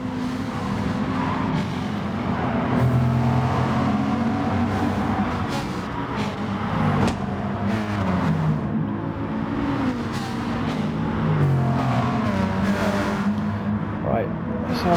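Race cars in a racing video game, among them a Bugatti Veyron, roar at speed along a straight on the Tokyo Expressway East Outer Loop, with engine drones and passes. Race commentary runs over them the whole time.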